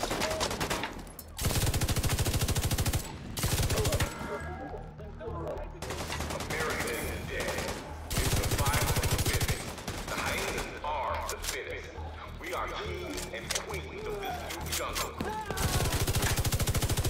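Light machine gun fire in The Division 2 on Xbox One: loud, sustained automatic bursts rattling in several long volleys, with game combat noise and scattered shots between them.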